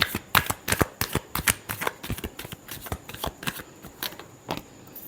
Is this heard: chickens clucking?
no